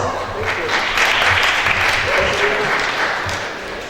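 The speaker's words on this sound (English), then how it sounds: "a round of applause." An audience at a Harvard lecture event gives a warm round of applause, steady clapping that swells in the middle and tapers slightly toward the end.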